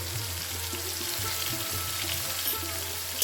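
Coriander and cumin powder sauté in a pan for cabbage with prawns, making a quiet, steady frying hiss with faint stirring underneath and no speech.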